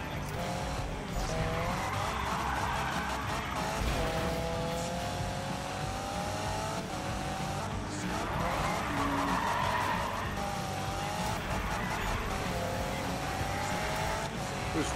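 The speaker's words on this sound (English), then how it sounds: "Using the e-brake to drift, putting it to work." Need for Speed car drifting with the e-brake on a Ventura Bay mountain road: a steady engine roar with repeated wavering tire squeals every few seconds, loud and continuous, with a voice talking over it at times.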